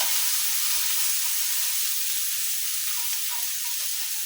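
Tomatoes sizzling and frying in a hot pan for Filipino sautéed chayote (ginisang sayote), a steady close hiss with a brief low knock near the start, no talking.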